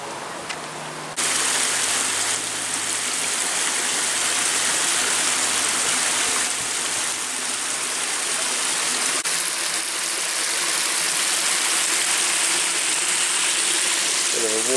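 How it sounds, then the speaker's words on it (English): Water rushes steadily through a water mill on a walk near Langstone, Havant, in Hampshire. A constant broadband gush swells in after a second and continues evenly, fairly close. "Bit of a water mill going on here as well, I think."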